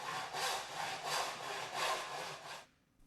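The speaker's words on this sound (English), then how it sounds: "You can now cut the bottom Newel post to a length of" Hand saw cutting a wooden newel post to length, steady back-and-forth rasping strokes in a regular rhythm, close and clear, ending abruptly as the cut finishes.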